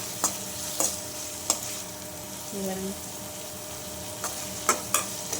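Onions sautéing in a pan with a spatula scraping and stirring them, soft sizzling under intermittent sharp scrapes and clinks against the pan, close and quiet, without talk.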